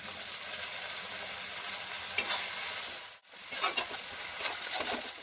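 Onions fried with ginger-garlic paste hiss and crackle steadily in a pan while being stirred, with a few louder scraping bursts near the end and no speech.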